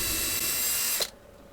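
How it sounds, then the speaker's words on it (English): A power drill whirs steadily while boring through a stack of short wooden paddle pop sticks, then cuts off abruptly as the bit stops, leaving near silence. "I'm drilling a hole in a heap of short paddle pop sticks"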